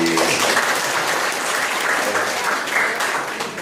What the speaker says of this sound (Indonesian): Tepuk tangan untuk Ibu Bupati.